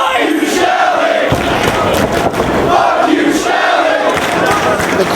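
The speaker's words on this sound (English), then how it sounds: "The crowd not exactly chanting for Alex Shelley, chanting at Alex Shelley" A professional wrestling crowd chanting in unison at a wrestler, a loud rhythmic roar of many voices that swells in repeated waves and fills the arena.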